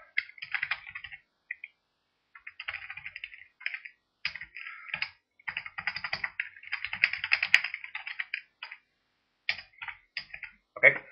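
Bursts of typing on a computer keyboard, quick close clicks in irregular runs with short pauses between words, in an otherwise quiet room.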